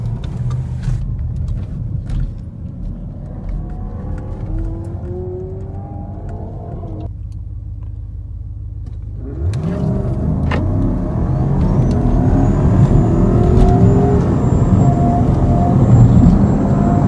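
A 2014 Jeep SRT8 with a built motor and 82mm turbo launches on a drag strip, its engine roaring loud and close, dropping briefly before building again into a rising, sustained acceleration run.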